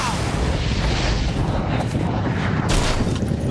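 A compact rocket sled fires its rocket stages with a loud, continuous roaring blast that fills the whole clip, surging again near the end as a later stage ignites.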